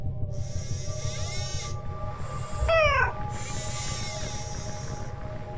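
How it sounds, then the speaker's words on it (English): A robotic cat in a Nancy Drew game meows with a buzzing, electronic tone, a couple of drawn-out synthetic mews with a rising-falling chirp between them, close and clear. "Who's my favorite robotic cat?"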